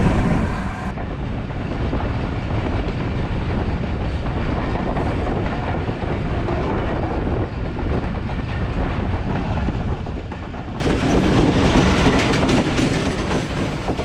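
The Karachi Express rumbles along continuously from inside an economy-class carriage, a loud, steady roar of wheels and rattling coach with some clickety-clack. No one speaks.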